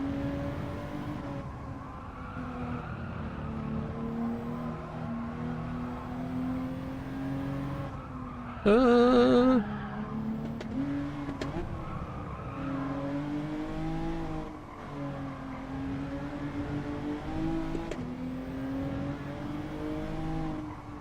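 Race car engine in a racing video game time trial, revving steadily with rising and falling pitch as gears change, with a brief harsh burst of tire squeal partway through, loud and continuous with no talking.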